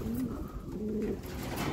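A racing pigeon gives soft, low cooing notes close by in a loft, a couple of murmuring phrases over steady background noise with no talking.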